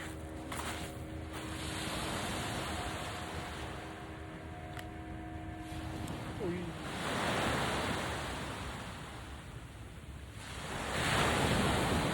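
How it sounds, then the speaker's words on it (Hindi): Ocean waves break on the beach at Amed, Bali, a broad, continuous roar of surf that swells and recedes in slow surges, close and loud with wind noise buffeting the microphone. "और खूबसूरत पानी की लहरें,"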